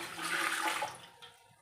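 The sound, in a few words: water being poured into a pot for kurdai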